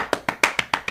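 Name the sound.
hands clapping in applause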